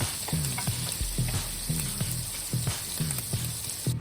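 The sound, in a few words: bacon-wrapped shrimp frying slowly on low heat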